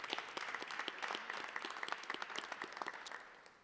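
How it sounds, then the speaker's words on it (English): Steady applause from an audience at a Rochester Peace Collective press conference, a few seconds of dense clapping at moderate distance, fairly faint, with no talk over it. "You can give that a round of applause."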